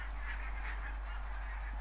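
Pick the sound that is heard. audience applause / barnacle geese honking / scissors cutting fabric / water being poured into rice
barnacle geese honking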